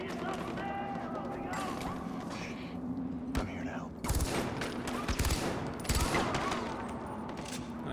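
Pistol shots in Far Cry 4, a few sharp close pops spaced around the middle, over steady game ambience and someone talking.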